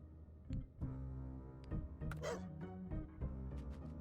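Game dog in Blightstone barking and yipping in several short bursts spread through the stretch, mid-level over a steady backdrop of game music and effects.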